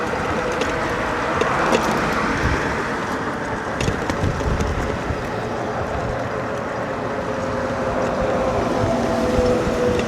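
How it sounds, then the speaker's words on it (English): Steady wind roars and buffets across the microphone outdoors near the Wynn resort, a constant low rushing noise throughout with no speech. "It's gotten pretty windy out here too."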